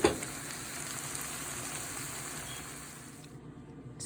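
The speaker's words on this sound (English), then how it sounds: "Brown your meat first, whatever kind of meat you want to use." Ground lamb browning in a pan for lasagna, a steady close sizzle and hiss that runs evenly and thins out near the end, with no talking.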